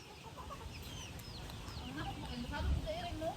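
Chickens cluck and chatter nearby in a steady stream, with a voice talking faintly underneath and some background hiss.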